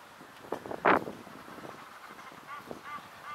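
Geese in a park give a few scattered honks, one loud honk standing out early and fainter calls following, against quiet outdoor background.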